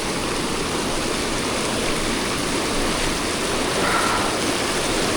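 Cold mountain stream water rushing steadily while someone wades across it, a dense, continuous splashing flow heard close by with no voices.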